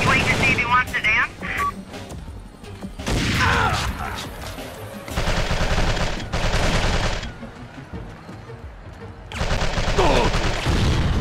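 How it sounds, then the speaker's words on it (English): Gunfire from the PS2 game Secret Service comes in several loud bursts of shots and fusillades separated by short gaps, mixed with game sound effects. "Good shooting, Pierce."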